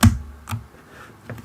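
A few isolated computer keyboard key presses, three sharp soft clicks spaced apart in a quiet room.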